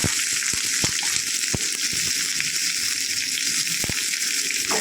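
Onions frying in hot oil with whole spices such as star anise, marathi moggu and cloves for a vada curry: a continuous, fairly loud sizzle with scattered sharp pops and clicks, and no talking.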